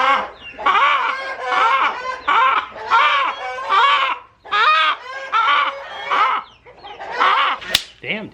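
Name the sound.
chickens clucking, hens and roosters in a barn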